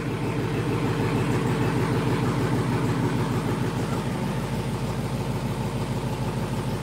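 A GTO's engine idles steadily and loudly inside a garage, a continuous low rumble with an even pulsing throb throughout.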